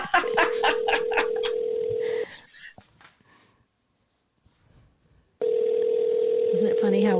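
A telephone ringback tone on an outgoing call to a guest, a steady purring ring with a short burst of tones, then a pause of near silence before the ring returns loud and close.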